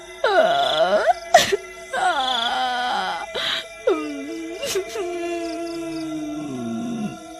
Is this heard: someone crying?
yes